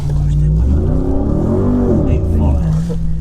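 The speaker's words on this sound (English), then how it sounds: "702 horsepower in this car." A 702-horsepower Dakar Rally car engine roars loudly up close, its deep revving pitch rising and falling in a strong sustained drone.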